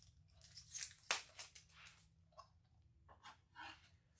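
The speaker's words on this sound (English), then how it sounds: "I'm going to cut some more ribbon." Scissors cutting ribbon while decorating a Christmas tree, a few quiet snips and rustles, with one sharper cut near the start-middle and softer handling noises after.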